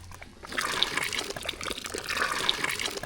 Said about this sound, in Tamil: இப்போ லாஸ்ட்டாக வந்து புளி தண்ணி சேர்த்துக்கலாம்